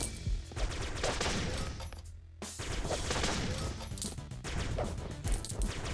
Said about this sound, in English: Oh, no, got cannons firing indoors too